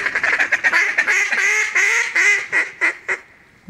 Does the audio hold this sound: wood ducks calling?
yes